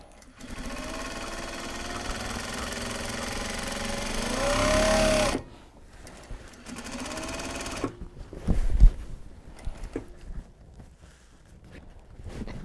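A sewing machine runs steadily, stitching a seam on Japanese fabric bags with a loud whirring drone. It stops, runs again in a shorter burst, then gives way to scattered handling knocks and clicks.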